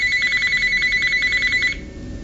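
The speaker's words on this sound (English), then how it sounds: "This is right next to a ringing phone" A telephone ringing right next to the listener, a loud electronic trill of rapid pulsing tones that holds steady for nearly two seconds and then cuts off, leaving faint room noise.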